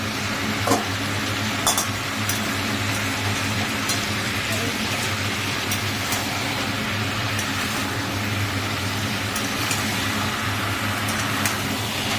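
Vegetable curry being stirred in a pan: a steady, fairly loud sizzle with scraping and occasional clicks of the utensil against the pan, continuing evenly throughout.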